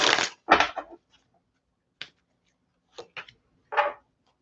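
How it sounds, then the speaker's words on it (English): Tarot cards smacked down onto a table in a few sharp, close slaps: two quick ones at the start, then isolated smacks spaced out, with quiet gaps between. "Can you guys hear it when I smack my cards on the table?"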